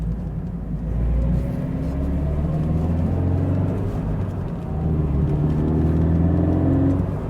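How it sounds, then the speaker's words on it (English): A modified Toyota GT86 drives around a roundabout, its engine droning steadily up close as it shifts down through the gears, with rising and falling rev tones filling the cabin throughout. "Down through the gears again, going around another roundabout."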